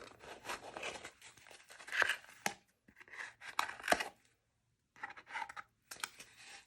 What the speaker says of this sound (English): So you'll just hold your yarn in place and just cut these top and bottom.